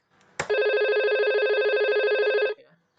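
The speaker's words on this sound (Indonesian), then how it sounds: "Ada telepon." A simulated VoIP phone in Cisco Packet Tracer rings with one steady electronic tone lasting about two seconds, loud and close, after a short click, with no voices.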